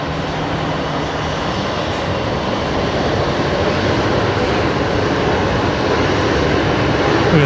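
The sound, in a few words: Air Calin Airbus A320neo coming in at Brisbane Airport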